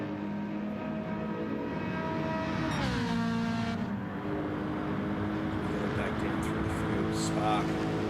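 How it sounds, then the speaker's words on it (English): A Ferrari GT3 race car in a racing video game on the Red Bull Ring back straight: a steady high engine whine rising through the gears, with a shift around the third second, while a commentator talks over it. "Really pushing that Ferrari down the back straight"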